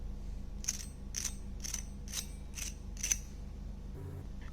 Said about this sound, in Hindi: इनकी क्रिस्पीनेस की आवाज़ हम आपको सुनाते हैं।